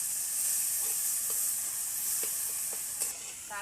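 Onion, tomato and ginger-garlic paste frying in a pan for a clam recipe, a steady loud sizzle with a few faint scrapes of stirring spread through it.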